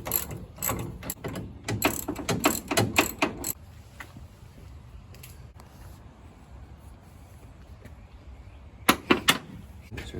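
A hand ratchet clicks in quick bursts while bolts are driven in to mount the tailgate trunnion on a Chevy Blazer, the clicking pausing midway and returning briefly near the end.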